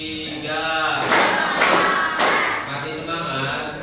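A class claps in a rhythmic pattern of several short group bursts, with a teacher and children chanting along.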